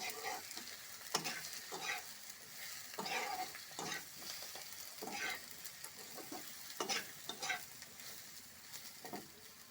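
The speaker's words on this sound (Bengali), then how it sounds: "এবার মশলাটা তেলের সাথে মিশিয়ে নেওয়া হচ্ছে" Chili powder and spices sizzle in hot oil as they are stirred, giving a soft, fairly faint frying hiss under irregular scraping strokes, with no talking.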